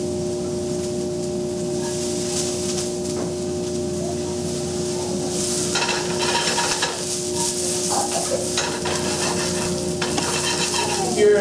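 Onions sizzling in a very hot pan, a continuous close frying hiss over a low steady hum, growing busier with bursts of crackle and stirring clatter in the second half; no one speaks.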